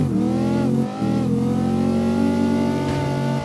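In CarX Drift Racing 2, a loud car engine revs hard and holds high during a drift, dipping briefly once before climbing back to a sustained, strained roar close up.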